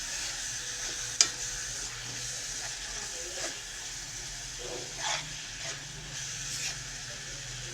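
Beef spring roll filling is stirred in a hot pan, a steady sizzle running throughout with a few scraping clicks and knocks of the utensil, close and fairly loud, with no talking.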